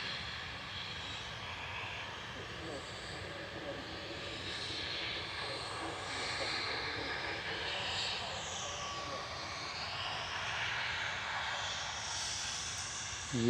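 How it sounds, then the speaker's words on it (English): Engine roar of an Airbus A320 airliner at Manchester Airport, a steady broad rumble and whine that holds across the whole stretch, heard from a distance. "GZUF A320 Classic."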